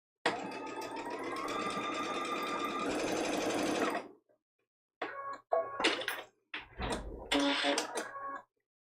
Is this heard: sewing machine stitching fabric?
yes